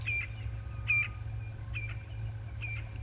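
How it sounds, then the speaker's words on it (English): Birds call on an African safari drive, with a brown-hooded kingfisher and francolins named: four short, faint chirping calls spaced about a second apart over a low rumble. "You can hear some francolins calling, and definitely a brown-hooded kingfisher going, "Pity for you, pity for you.""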